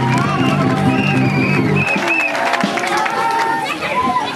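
Audience applause at a family birthday celebration honouring a mother, a broad wash of clapping and cheering from a crowd, loud and sustained, with a music bed underneath at the start that cuts off partway through.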